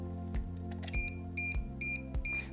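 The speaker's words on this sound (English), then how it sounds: "your fence is going to alarm on you like this" A dog containment fence control box sounds its alarm because a wire terminal has been knocked loose, giving four evenly spaced beeps about every 0.6 seconds over a steady background hum.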